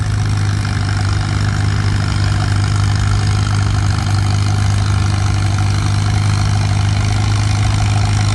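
Farmall antique tractor engine straining during a tractor pull, a loud continuous throaty drone with a deep steady low rumble, close and unbroken throughout.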